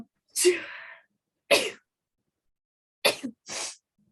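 A person sneezes, with a sharp burst followed by a couple more short breathy sneezes and gasps, close and alone in a quiet room.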